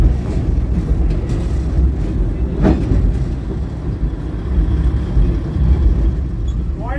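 Darjeeling steam toy train on a joyride from Batasia Loop toward Ghum station, heard from inside a carriage as a loud, steady rumble and rattle that runs throughout, with one brief sharper sound partway through.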